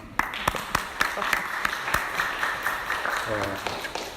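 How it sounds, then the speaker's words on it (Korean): A sparse scattering of claps, like a small church congregation giving brief applause, continuing for a few seconds with a voice briefly speaking near the end. "박수 한번 주십시오"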